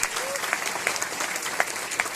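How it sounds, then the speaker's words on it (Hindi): An audience at a product training session claps together in sustained, dense applause, a steady wash of hand claps with a few sharper individual claps standing out. "सभी के लिए एक बार ताली हो जाए।"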